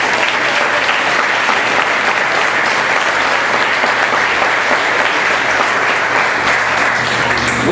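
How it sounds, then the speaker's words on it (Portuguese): A church congregation claps after a pastor's sermon, dense sustained applause filling the room at full volume without a break. "Pode aplaudir"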